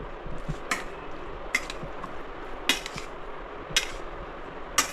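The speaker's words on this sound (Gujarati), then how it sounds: "આ રીતે એને મિક્સ કરી નાખવાનું છે, જેથી એનો સ્વાદ બધામાં મિક્સ થઈ જાય" Batata poha ingredients are stirred together in a bowl with a utensil, giving a soft continuous mixing scrape broken by about five sharp metallic clinks, roughly one per second, close and fairly quiet with no talk.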